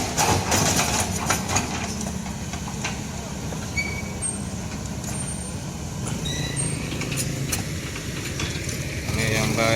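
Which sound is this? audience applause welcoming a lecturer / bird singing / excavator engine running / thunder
excavator engine running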